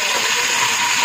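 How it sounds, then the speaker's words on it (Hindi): Water pours into a cooking pot of browned onions, a steady continuous gush that stays loud and close for the whole second with no voices. "अब हम इसमें डालेंगे पानी"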